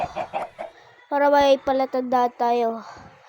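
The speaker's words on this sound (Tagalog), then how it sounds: "May manok, gagawin ko dyan." Chicken clucking and squawking in a series of loud, close, tonal calls that follow brief speech.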